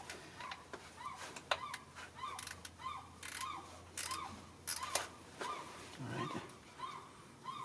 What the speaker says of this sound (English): We're using this ratcheting Phillips.